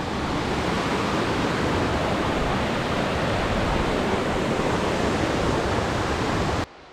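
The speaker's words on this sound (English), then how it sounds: "there's more than a few cool streams that you get to cross over" A stream rushing along the Chimney Tops trail in Great Smoky Mountains National Park, a loud, dense, unbroken roar of water close by that cuts off abruptly at the end.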